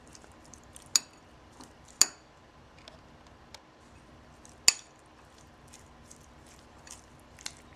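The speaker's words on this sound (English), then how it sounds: "And just mix it around." Tuna tartare tossed with spices, peppermint and cilantro in a bowl: quiet, sparse clinks of a utensil against the dish, a few sharper taps standing out over soft, wet stirring, with no talk.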